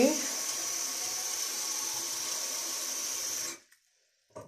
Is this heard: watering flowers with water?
yes